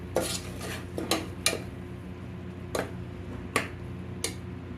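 A spoon stirs salt into paneer pulao in a pot, giving a handful of sharp, scattered metal clinks and scrapes over a low, steady background hum, with no talking.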